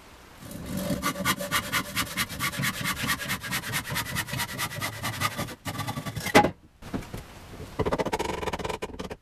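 A 2x4 wooden board is sawn for a pallet-built milking stand, steady rhythmic back-and-forth strokes rasping close and loud, a brief pause near the end, then more cutting.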